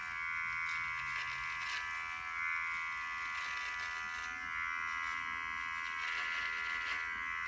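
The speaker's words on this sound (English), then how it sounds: "hit the power button to turn it on, and I can start trimming" Manspot electric body trimmer running during trimming, a steady close high-pitched motor buzz that holds continuously throughout with little change.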